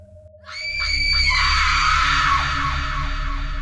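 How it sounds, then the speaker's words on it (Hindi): A terrifying, drawn-out scream in a spoken horror story, loud and harsh, rising suddenly and holding for several seconds over a low droning background. "एक भयानक, खौफनाक चीख गूंज उठी।"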